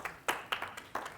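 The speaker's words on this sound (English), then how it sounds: "Two people clapping out" Two people clap, a handful of sharp, separate claps at an uneven rhythm, faint and somewhat distant in a quiet room.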